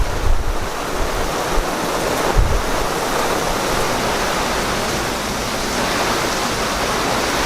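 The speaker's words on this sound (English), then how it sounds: "Squall coming through" Strong, steady squall wind roaring over the open sea in the Gulf Stream, with waves churning beneath; a loud, continuous gusty rush with no voices.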